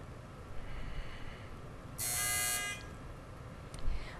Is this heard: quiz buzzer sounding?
yes